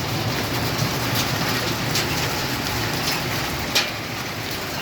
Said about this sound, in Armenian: Վեց րոպե տևեց կարկուտը, բայց դեռ նորից գալիս է ու գալիս։